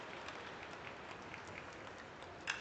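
Faint, distant clapping from baseball fans in a stadium crowd at LoanDepot Park during a Hurricanes vs Panthers game, a steady low wash of applause with a slightly sharper burst near the end.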